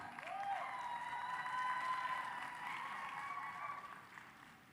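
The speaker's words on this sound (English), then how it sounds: "Let's please cheer her on." An audience at a university graduation ceremony in Uganda applauds, holding a sustained wash of clapping for several seconds that slowly fades, with a faint tonal ring from the hall's sound system.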